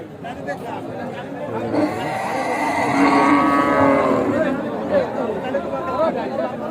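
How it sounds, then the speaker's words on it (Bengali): Cattle lowing amid a busy livestock market crowd at Aricha, Bangladesh, with steady chatter and murmuring voices throughout and moos rising out of the din. "এই যে দেখেন অনেক গরু আছে"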